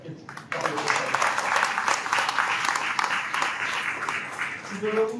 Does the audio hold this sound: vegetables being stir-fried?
no